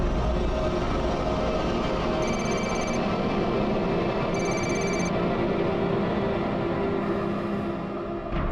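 A telephone rings in two short electronic trills over a loud continuous rumble of a moving train, followed by a third faint ring near the end.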